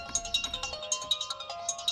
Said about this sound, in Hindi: अबे कौन वीआईपी आदमी सुबह सुबह तुझे फोन कर रहा है बे?